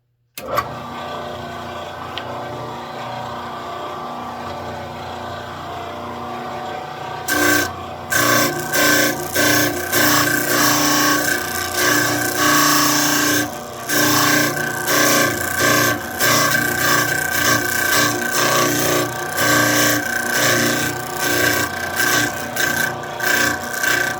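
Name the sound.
sander sanding wooden wheels down to 2 inches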